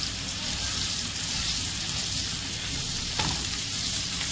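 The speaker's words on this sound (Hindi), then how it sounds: "गार्लिक थोड़ा सौटे करते हैं ताकि गार्लिक और जिंजर गार्लिक का जो एक थोड़ा सा कच्चापन है वो ख़त्म हो जाएगा" Garlic and ginger sauté on medium heat in a pan for fish cutlets, a steady, close sizzle that hisses without pause, with one brief clink of a utensil, no voices.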